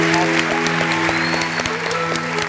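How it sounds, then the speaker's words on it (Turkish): Studio applause for a chef on a cooking game show, scattered claps ringing over a steady background hum with sharp individual hand strikes standing out. "Alkışlar Sömer şefimize geliyor."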